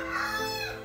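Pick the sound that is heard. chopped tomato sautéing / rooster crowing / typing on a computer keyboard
rooster crowing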